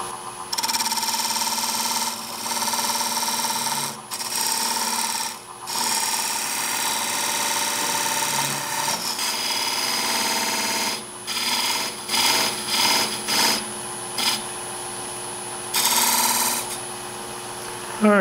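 A wood lathe spins as a scraper cuts into end grain on a turned piece, producing a steady, close rasping and scraping drone that runs almost continuously with brief dips in between passes.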